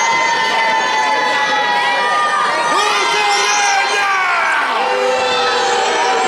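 A crowd at a wrestling show cheers and shouts loudly and continuously, a dense wash of voices with rising whoops and yells, close and steady throughout.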